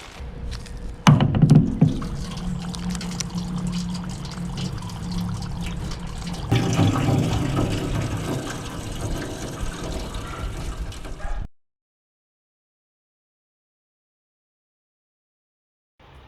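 Water rushes and sloshes through a rusty long-range fuel tank to flush out loose rubbish, a loud continuous churning with a thud near the start, building then cutting off abruptly into silence.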